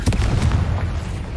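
The Confringo explosive spell goes off in Hogwarts Legacy with a loud, close burst of rapid blasts and pops over a rumbling low boom that fades slightly across about a second.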